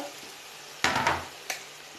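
Chopped okra being stirred into a pot of crab sauce, a short low simmer broken by two quick bursts of wet scraping and sizzling, close and fairly soft.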